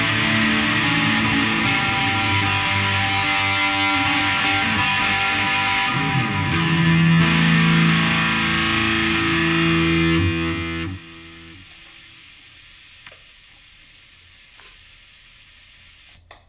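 A heavily distorted electric guitar rings out loud and sustained for about ten seconds, then cuts off, leaving faint clicks and low hum.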